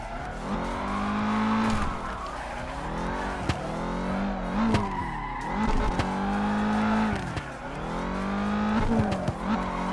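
A race car in the Forza Horizon video game drifts through figure eights, its engine revving and wailing in repeated swells while tire squeal rises and falls with each loop, loud and close with no talk.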